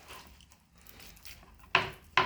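A knife cutting through a raw whole chicken on a board: faint handling noise, then two sharp, close chopping strikes near the end.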